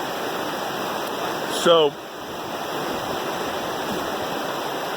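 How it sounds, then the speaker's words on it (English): A creek in Red Lodge, Montana runs right beside a room, a steady broadband rush of flowing water throughout, with a brief spoken word partway in. "constant sounds of the creek right by my room"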